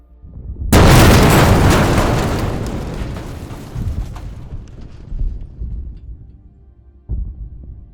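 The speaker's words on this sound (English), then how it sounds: "The impact of the explosion neutralizes all the Russian troops." A guided bomb explodes in a sudden loud blast, then a long rumbling decay with scattered secondary booms and crackles rolling off over several seconds.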